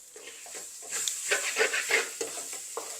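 Curry leaves and onions frying in a pan for dried baby prawn sambol, with soft sizzling and close stirring scrapes in an irregular rhythm, fairly quiet.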